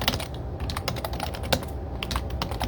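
Code being typed on a computer keyboard: close, rapid, uneven clicks of keys in short bursts with brief pauses, clear and alone without speech.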